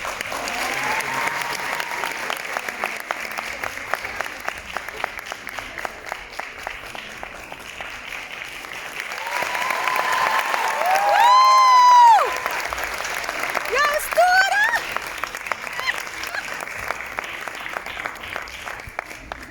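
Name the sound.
audience applause for performers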